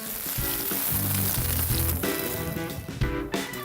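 Sausages sear in butter in a preheated cast iron pan, a loud, dense sizzle heard close up with short tonal hums and clatter layered in, steady over a few seconds and dipping briefly near the end.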